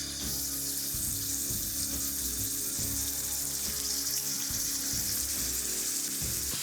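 Honey soy pork ribs fry in an oiled pan, giving a quiet, steady sizzle and hiss over a low background hum.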